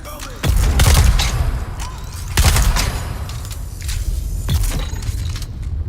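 Gunfire in the Dune Awakening game, loud sharp shots arriving in a few separate bursts with short gaps between them over a steady background.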